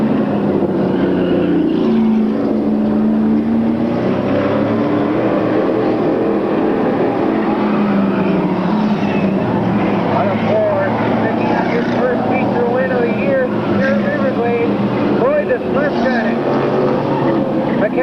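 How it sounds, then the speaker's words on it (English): Stock car race with a Ford Thunderbird on track in 1998, a dense, continuous roar of engines throughout, heard under steady announcer commentary over the public address. "Final lap for the Ford Thunderbird driven by Lloyd Garnet."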